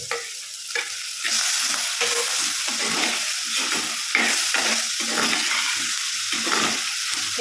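Onion, curry leaves and tomato fry in a pan for a ridge gourd theeyal, with a steady close sizzle broken by repeated rhythmic scraping strokes of stirring and no talking.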